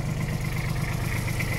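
A Kubota Aste A175 tractor, a small Japanese-import machine, idles with a steady low diesel throb that is moderately loud and close, with no voices over it.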